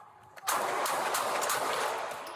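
A police officer fires a gun at a man outside police headquarters. The loud, close burst of gunfire starts abruptly and runs as a dense, rapid roar for about two seconds, with no voices.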